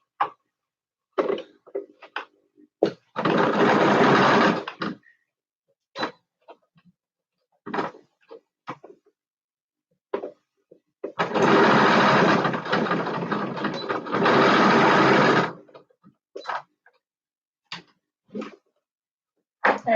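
A home sewing machine stitching fabric runs in two sustained bursts of steady whirring, each a few seconds long, with quiet handling clicks and taps between them and no talking.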